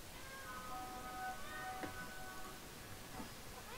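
A cat meows several times indoors, thin tonal cries that are fairly faint over a steady low background hum.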